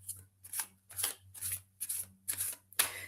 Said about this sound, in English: I was starting to shuffle for that